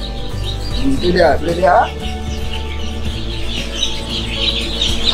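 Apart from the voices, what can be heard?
newly hatched village chicken chicks chirping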